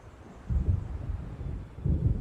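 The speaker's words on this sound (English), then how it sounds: "It seems there's a storm coming." Low rolling thunder from an approaching storm in the video game Alan Wake rumbles in two swells over a dull windy background, moderately loud and with no voices.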